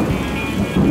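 Heavy tropical rain pours down steadily just after sunset, a dense continuous roar of drops with a rumbling low undertone, swelling louder near the end.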